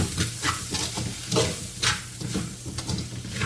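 A spoon stirs and scrapes a sizzling pan mixture seasoned with garam masala for pork roast, in uneven bursts close by with a soft hiss between strokes.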